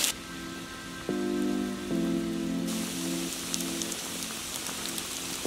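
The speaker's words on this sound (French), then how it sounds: "il est en train de grêler" Hail and rain pelt down outdoors in spring, a dense steady hiss of impacts. Harmonic droning tones sound through the first half, then the patter continues alone with scattered sharper hits.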